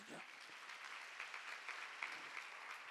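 A congregation claps together during a Sunday worship service at a Jesus-centered church, heard as faint, steady, distant applause that holds evenly throughout.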